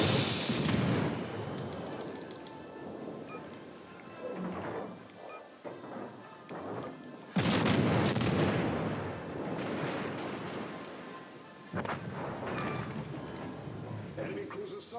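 Heavy naval gun salvos boom in the World of Warships: Legends naval battle game, several loud deep blasts with long rumbling decay at about 0, 7.5 and 12 seconds, while a player talks throughout.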